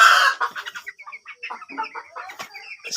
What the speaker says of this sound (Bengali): আমার সাদা মোরগ